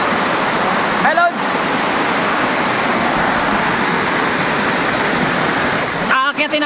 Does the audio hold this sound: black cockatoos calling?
no